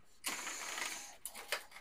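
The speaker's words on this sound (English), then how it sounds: "let me hit print so you guys can see what I'm going to be printing on this thing" An Epson F570 sublimation printer running a print job, its mechanism whirring and ratcheting steadily at close range, with a few sharper clicks and carriage bursts near the end.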